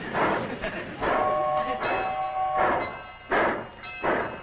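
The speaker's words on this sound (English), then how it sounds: "Who's blowing that locomotive whistle?" Steam locomotive whistle blowing in repeated blasts as the train pulls out of the station, sustained tones heard over background noise and muffled talk.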